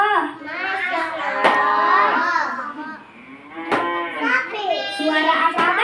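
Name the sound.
cow mooing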